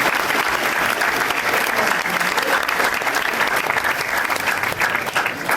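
Audience at a hypnotist show during a senior all-night party claps in a thick, steady round of applause, loud and unbroken for several seconds with no speech over it.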